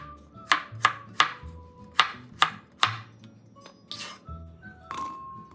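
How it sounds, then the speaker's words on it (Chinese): A knife chops three small red shallots on a cutting board in sharp, distinct strikes, irregularly spaced and close up, with a low hum beneath and no talking. "3个小红葱切细"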